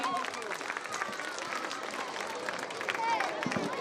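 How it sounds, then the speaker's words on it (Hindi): An audience claps heartily at an RSS gathering after a call for loud applause, a dense spread of hands with some crowd murmur mixed in. "एक बार जोरदार ताली"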